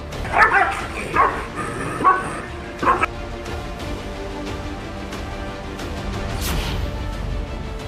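Stray dogs bark sharply a few times in quick bursts early on, followed by quieter outdoor background noise.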